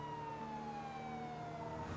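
A police car siren in the video game GTA 5 wails steadily in a long, slowly falling tone, quiet and somewhat distant over faint background noise, with no talk.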